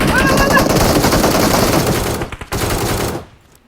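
Loud, close bursts of automatic gunfire in the PUBG Mobile snow-map event, rattling almost continuously for about three seconds before cutting off into near silence.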